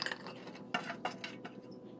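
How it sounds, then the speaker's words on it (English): Cut corn pieces tipped into a mixing bowl for a Thai corn salad, giving a few light clinks and scrapes, with two sharper taps near the middle, close and fairly quiet, with no talking. "I'm going to put the cut corn in the mixing bowl"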